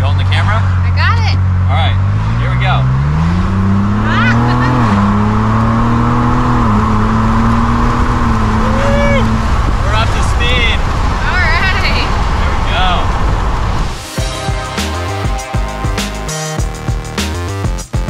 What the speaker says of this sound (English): let's get the exhaust in sport mode